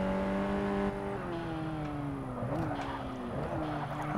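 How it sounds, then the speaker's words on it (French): Racing car engine in Forza Motorsport 6 on Xbox One, a steady droning tone that climbs and drops with gear shifts as the car accelerates, continuous and fairly loud with no talking. "Maintenant, faut qu'on mette les gaz"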